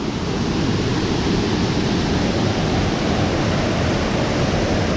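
A waterfall at Ricketts Glen roars nearby as a dense, steady wash of falling water that runs unbroken and fairly loud, with no voices.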